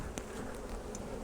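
Honey bees buzz around an open hive during a nuc split, a faint steady hum with a couple of brief louder passes of individual bees close by.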